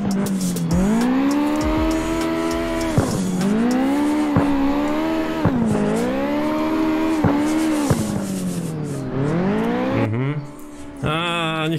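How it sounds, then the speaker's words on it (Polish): Drift car from a racing game screaming through repeated high-rev surges, each climb dropping sharply at a gear change or lift, with tire skidding, loud and close, ending in a brief clatter. "Zobaczymy, co ten samochód potrafi."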